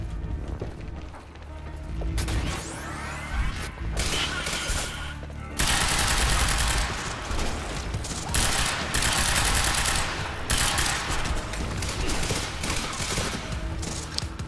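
Gunfire in the video game Quantum Break comes as loud bursts of rapid shots and fusillades, broken by short quieter gaps, across the whole passage.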